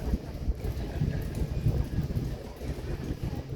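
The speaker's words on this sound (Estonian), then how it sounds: "tuul on ikka see ikkagi mereline ja hästi mõnus" Steady sea wind on a shaded spot in Athens, a broad low rumble buffeting the microphone continuously with no voices.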